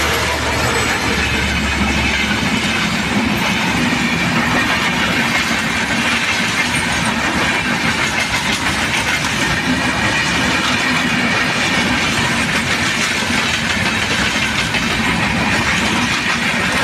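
Varendra Express passenger train running on rails, a continuous loud rumble with rhythmic clatter of wheels throughout, steady and close, with no voices.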